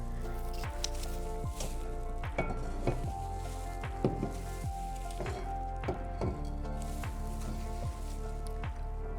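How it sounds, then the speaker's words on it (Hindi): Dalda oil poured into a cooking pan over medium heat gives a soft, steady sizzle with scattered light clinks and stirring knocks throughout, and no talk. "हमने अपना मीडियम आंच रखी है और इसमें हम डाल रहे हैं अपना डालडा ऑयल।"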